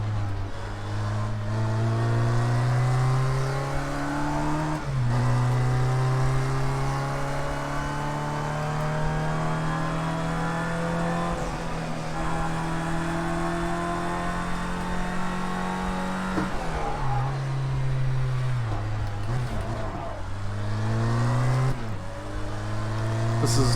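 A Formula Rookie race car engine in a video game drones loudly and continuously, its pitch climbing through the gears and dropping sharply at each shift, with a voice talking over it.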